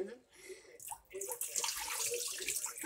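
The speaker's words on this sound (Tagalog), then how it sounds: "Hugasan natin yung rice." Tap water runs in a kitchen while rice is rinsed, a close splashing flow that starts after a brief pause and grows fuller, with soft speech in the background.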